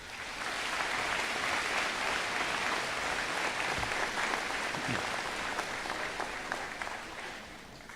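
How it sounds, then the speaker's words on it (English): A crowd at a 2024 high school commencement ceremony applauds steadily and densely for about eight seconds, a sustained wash of many hands clapping that eases slightly at the end. "These people deserve a round of applause."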